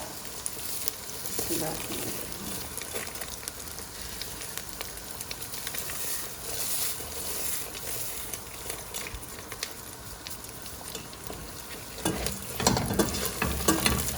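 Onions fry and get stirred in a pot while beef paya curry cooks, giving a soft, continuous sizzle with scraping and stirring, fairly quiet and close, loudest near the end.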